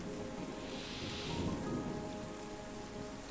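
Rainfall in the restoration video game Terra Nil, a steady soft hiss of falling rain with a low distant rumble like thunder swelling briefly in the middle, with no voices.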